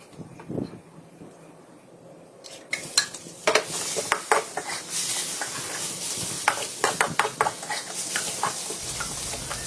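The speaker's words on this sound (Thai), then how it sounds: "ตั้งกระทะใส่น้ำมันแล้วก็ใส่พริกที่เตรียมไว้ผัดพริกให้สุก" Chilies sizzle steadily in oil in a pan while a utensil scrapes and clinks against the metal in quick, irregular strokes, close by.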